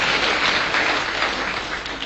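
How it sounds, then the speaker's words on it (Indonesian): Church congregation clapping together during a sermon, a dense, loud and steady wash of applause filling the whole clip with no break. "Berikan tepuk tangan."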